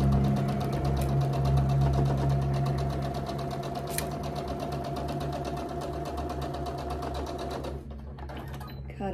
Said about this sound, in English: Sew our quarter inch seam down the center.